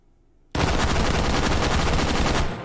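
An H51 rifle in 7.62x51 NATO fires full-auto without a stock in the H3VR video game, a sudden loud, unbroken burst of rapid shots lasting about two seconds after a quiet start, then cutting off sharply.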